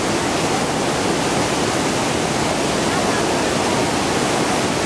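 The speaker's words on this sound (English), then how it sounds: "Niagara Falls Rapids." Turbulent rapids at Niagara Falls roar as a dense, constant rush of white water, loud and close, with no break or change across the whole stretch.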